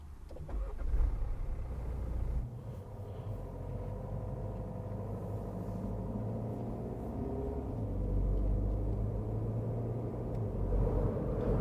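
A MINI 5-door Cooper SD fired up with its push-button start switch, the engine catching and then settling into a steady low idle rumble, close and even throughout.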